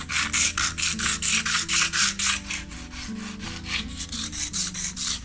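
A plastic spoon gunked with peanut butter is sharpened with rapid, rhythmic back-and-forth rasping strokes, loud and close, evenly paced with no talking.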